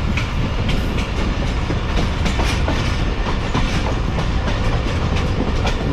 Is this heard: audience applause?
no